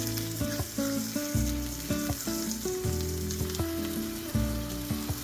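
A steak sears in hot oil in a pan with a loud, continuous sizzle and crackle close up, a dense frying hiss that persists throughout without any talk.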